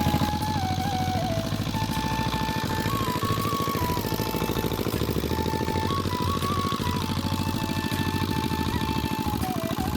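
An irrigation pump engine runs beside a paddy field in a loud, steady, close drone with a rapid mechanical chug and a faint whining tone wavering above it, continuous throughout.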